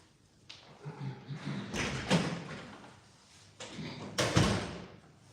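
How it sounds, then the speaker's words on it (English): An indoor door is pushed closed, giving a couple of soft thuds and a firmer bump near the end amid faint room noise and light shuffling. "I'm going to close this door so we don't hear him."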